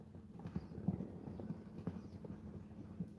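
Horses cantering across a paddock after a day of rain, their hooves giving a steady, rolling clip-clop rhythm at moderate distance, fairly soft and alone.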